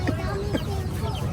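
Chickens cluck and chicks peep steadily in the background while people talk nearby.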